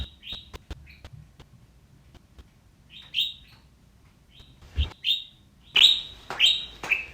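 Pet bird Pixel lets out a series of loud, shrill calls and chirps, close by and increasingly frequent, scattered over a quiet room with a few soft knocks.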